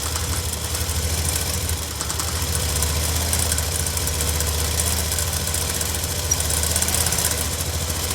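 A sewing machine runs steadily and continuously while stitching the hem of a dhoti salwar, producing a constant mechanical hum and rapid needle chatter with no pauses.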